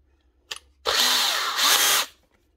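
DeWalt cordless drill spinning freely in two quick high-pitched whirring bursts after a short click, close and loud with no one talking.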